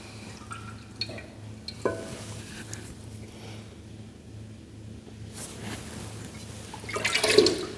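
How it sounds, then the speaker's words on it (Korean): A typical Korean-made clay flowerpot lowered into water: mostly quiet with faint drips, then a short burst of splashing and bubbling near the end as the pot goes under. "이건 국산 토분입니다. 전형적인 토분이죠. 제가 담가 볼까요?"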